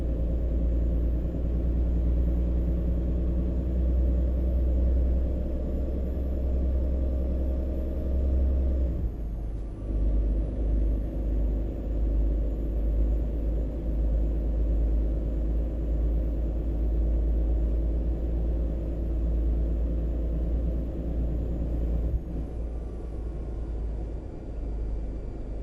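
Kenworth truck engine in American Truck Simulator, hauling a 57K load, a loud steady low rumble that drops briefly near the ten-second mark and then resumes, with a hiss like an air brake partway through.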